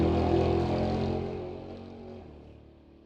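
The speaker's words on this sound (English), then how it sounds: "65 Nova, 383 stroker small block in that wagon." A '65 Chevy Nova wagon with a 383 stroker small-block V8 at a drag strip, a loud engine roar that peaks early and then fades away as the car pulls off into the distance.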